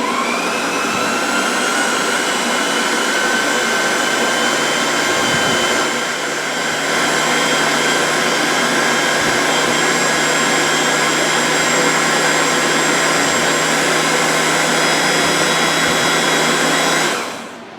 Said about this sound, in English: the Ninja is loud, okay? So I'm going to hit it on mix.